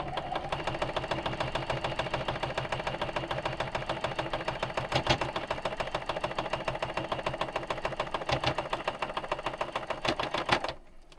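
Sewing machine stitching quilt blocks together at a quarter-inch seam, a steady rapid needle clatter running continuously with brief pauses, close and fairly loud, stopping near the end.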